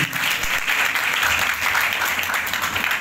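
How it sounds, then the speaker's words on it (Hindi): Church congregation at a Sunday service giving loud, enthusiastic applause; dense continuous clapping throughout, close and full, with no speech on top. "जोरदार तालियां"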